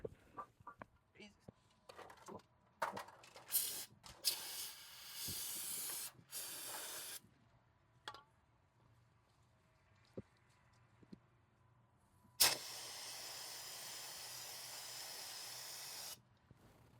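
Bursts of brake cleaner sprayed from an aerosol can onto caked, coolant-dirty engine parts of a 1979 Camaro, several short hissing blasts then two long sustained sprays, close and loud, with quiet clicks and handling noises between.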